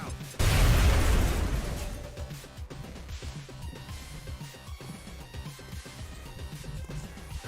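A frag grenade detonates in a video game with a loud, close boom that rolls off over a second, followed by lighter rhythmic clatter and gunplay noise.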